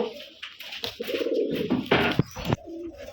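Pigeons cooing at a pigeon farm, with several close, soft throaty coos and murmurs overlapping in quick succession, alone without talk.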